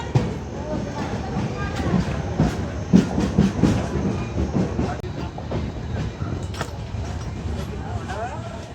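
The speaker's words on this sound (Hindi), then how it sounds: "चलिए 1 मिनट के हॉल्ट के बाद अपना डिपार्चर हो गया प्लेटफॉर्म नंबर 2 से।" The Konark Express pulls away from a station platform, a rumbling rolling train with rhythmic wheel clatter, people talking over it throughout.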